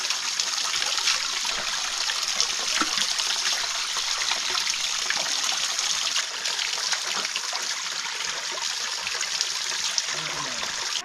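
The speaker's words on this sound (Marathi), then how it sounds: "झरे मस्त आलेत आता पाणी प्यायला आलं आहे" A forest spring in the Konkan early monsoon trickles and splashes close by, a continuous watery babble with scattered small drips and splatters that stays steady throughout.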